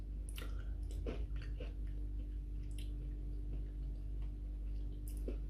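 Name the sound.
chewing crunchy apple cheesecake pastry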